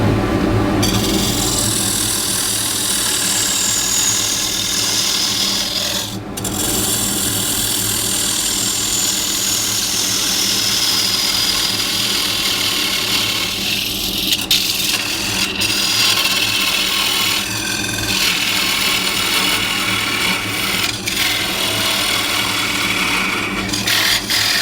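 Dust extractor in a woodturning workshop during bowl coring, a loud steady broadband roar running throughout, with occasional knocks and scraping of tools on wood.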